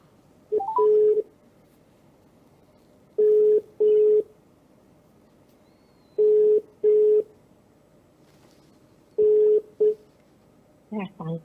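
Phone dialing heard as several pairs of short steady tones separated by pauses, with a brief burst of other tones at the very end and no talking.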